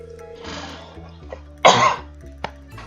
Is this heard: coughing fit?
yes